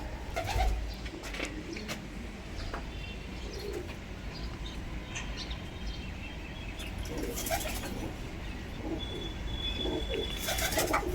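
A pigeon at a Punjabi pigeon-keeping club coos low and repeatedly while held, with wing flaps, rustling and chirps from other birds around it and no clear speech.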